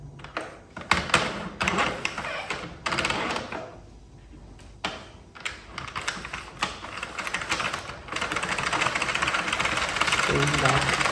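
Sentro knitting machine cranked by hand, with rapid rattling clicks of the needles in bursts and steadier runs, under someone speaking close by.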